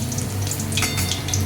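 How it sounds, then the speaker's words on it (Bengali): Turmeric-coated potato pieces fry in about three tablespoons of oil, making a steady, close crackling sizzle with soft popping and no pauses. "এখন আমি 3 টেবিল স্পুন তেল নিয়েছি। এটাতে হলুদ মাখানো যে আলুটা ছিল সেটা ভেজে নেব।"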